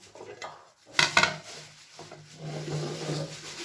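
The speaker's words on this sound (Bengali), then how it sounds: "এবার আমি এটিকে ঢেকে রাখবো।" A pan is covered with a lid in a home kitchen while cooking cauliflower Manchurian, giving a sharp metallic clatter around the one-second mark amid softer rubbing and kitchen handling sounds.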